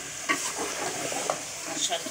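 Thick-cut potatoes fry and get stirred in a pan for desi chicken gravy, a steady close sizzle with scraping stirs, and a voice speaks briefly over it.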